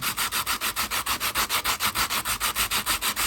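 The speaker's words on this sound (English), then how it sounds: "rub the wood up and down on the sandpaper" Wood for a Swedish butter knife is rubbed up and down on sandpaper in a steady back-and-forth rhythm, about six or seven strokes per second, close and clear with no talking.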